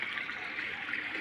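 Water pours out of a swimming pool through drain valves set low in its wall, a steady close rushing flow with no pauses, bright and hissing throughout.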